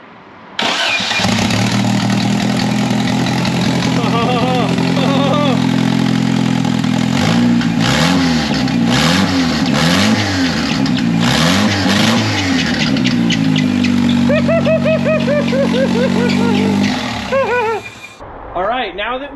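A turbocharged Toyota Supra engine cranks, catches and runs, with rising and falling revs and a few sharp throttle blips, loud and close, then shuts off near the end.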